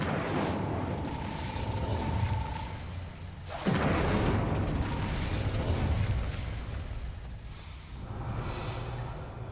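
The Incendio fire spell goes off in a Harry Potter video game with a sudden whooshing burst that swells into a roaring, crackling rush of flame, sustained for several seconds and then fading under a low ambient hum.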